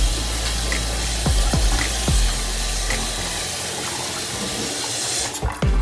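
Cold tap water runs steadily into a sink while raw chicken is rinsed for jerk chicken, a constant close splashing stream with a few sharp knocks and thumps over the top.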